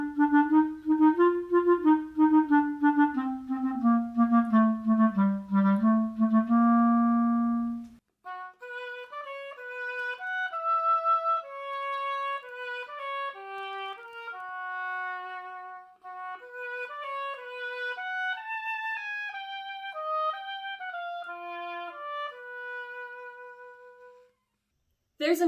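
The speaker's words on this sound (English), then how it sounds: "Let's visit our friends at the Cincinnati Symphony Orchestra to hear some woodwind instruments." Woodwind instruments of the Cincinnati Symphony Orchestra play a melodic passage, first one sustained reedy line with vibrato, then a lighter interweaving of several wind voices, clear and close with no talk.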